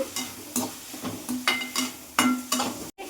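Capsicum and mixed vegetables frying for pasta on a high gas flame, a steady sizzle broken by regular stirring scrapes of a spatula against the pan, close and moderately loud with no talking.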